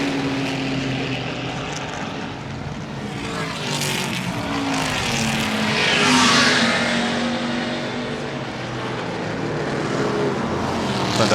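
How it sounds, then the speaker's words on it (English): Racing cars at the Goodwood Revival circuit, among them a low drag Jaguar E-Type, roar past with engines rising to a loud close peak before fading, a continuous blend of several engines. "There is the low drag E-Type about to be gobbled up."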